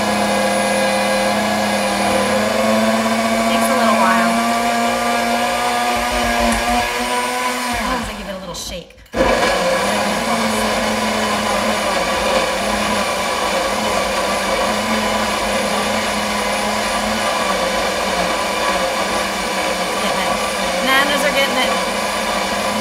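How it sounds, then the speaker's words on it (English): Nutribullet blender grinding a frozen smoothie with almond milk, a loud steady motor whine that runs throughout, briefly cutting out near the middle before starting again. "And then I just blend it up and drink it up."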